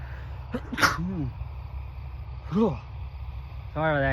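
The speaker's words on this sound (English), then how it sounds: "Sorry about that, you guys. Didn't mean to sneeze." A single sharp sneeze bursts out close by during harvest time outdoors, with a smaller breathy burst soon after and a voice starting up at the end over low steady rumble.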